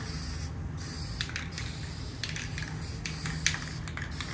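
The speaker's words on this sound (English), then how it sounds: "You're going to spray it from about a foot away." Several short hissing bursts of an aerosol polyurethane spray can coating a clock face, sprayed in quick repeated passes over a steady low background hum.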